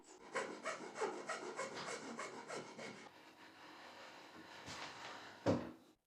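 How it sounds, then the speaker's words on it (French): A round file rasps back and forth inside a drilled hole in wood, clearing the ridge left in the middle: a series of close, rhythmic scraping strokes, then a pause and one last louder stroke. "j'utilise une lime ronde juste pour enlever cette arête"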